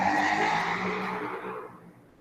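A motorcycle roars past close by outdoors, one loud broadband engine-and-tire sweep that fades away over about two seconds.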